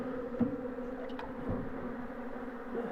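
A swarm of honeybees hums inside a large wooden hive box, a steady, close, continuous drone with a few brief louder passes from individual bees near the opening.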